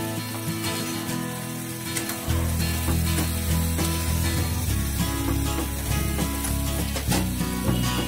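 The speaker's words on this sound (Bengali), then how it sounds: "মশলাটা বেশ গাঢ় হয়ে চলে এসেছে। ভালো করে নাড়াচাড়া করে নিচ্ছি।" Thick spice paste for a Bengali rohu fish curry sizzles loudly in a hot pan while being stirred, a constant frying hiss with scraping and clinking of the spoon, swelling louder partway through.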